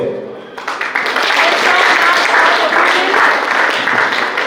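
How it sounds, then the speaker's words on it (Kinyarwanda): A crowd at a 2021 women's festival claps for all the women, with loud, dense, sustained applause that swells in after a brief quieter opening and continues steadily to the end. "Hanyuma duhe amashyi rero abakenyezi bose."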